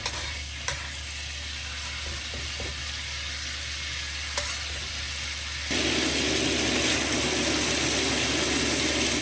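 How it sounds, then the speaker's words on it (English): Ginger, garlic and green onion stir-fry in a wok, giving a steady sizzling hiss with a few sharp clicks from the utensil, then jumping noticeably louder partway through as the frying intensifies. "Into the same wok, we add ginger, garlic, and green onion."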